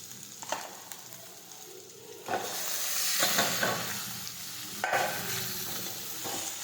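Chopped tomatoes sautéing in a pan for sev tameta shak, a soft frying sizzle with intermittent stirring scrapes that swells louder partway through and keeps a steady hiss.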